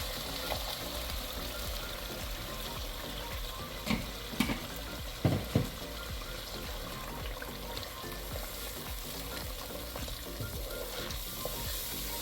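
Blended tomato paste frying in ghee for a fish gravy gives a steady, moderate sizzle throughout, with a few brief scraping or stirring knocks near the middle.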